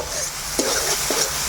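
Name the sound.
spices with chili powder frying and being stirred in pan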